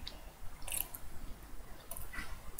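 Close, quiet chewing of a Burger King chocolate chip cookie that is crisp outside and soft inside, soft mouth sounds with a few brief crunchy bites, no talking.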